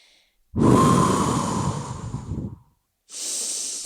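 Deep breathing during a post-workout stretching routine: a long, close, airy exhale lasting about two seconds, followed after a short pause by the hiss of the next breath beginning.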